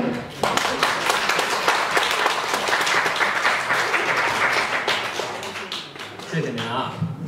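An audience applauds warmly at a xiangsheng comedy show at Sanqingyuan: dense, sustained clapping fills the hall, thins toward the end, and a performer's voice comes through beneath it.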